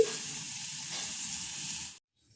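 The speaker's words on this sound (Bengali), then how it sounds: "উচ্ছেটা আমি এভাবে ভেজে নিয়েছি।" Bitter gourd frying in hot oil in a kadai gives a steady, close sizzle with soft bubbling, running for about two seconds before cutting to silence.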